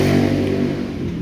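A smoking low-mileage motorcycle engine is revved hard, giving a loud, steady, close-up roar that eases slightly toward the end.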